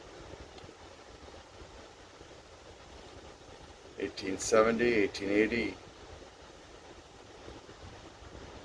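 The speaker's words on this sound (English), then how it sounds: "All these fans are going to sound loud to you because I'm blowing them directly at the microphone." Steady whooshing noise from PC case fans blowing directly at the microphone runs throughout, fairly close, with a voice speaking briefly in the middle.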